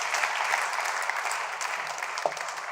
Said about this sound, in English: Round of applause for our guests being here, so bravely answering your questions